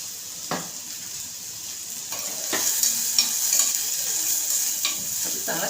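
Onions for misal sizzle steadily in a hot pan while a spoon stirs and scrapes, with a few sharp clinks against the metal.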